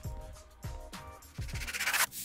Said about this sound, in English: I used some small reverse effects to create some cool transitions.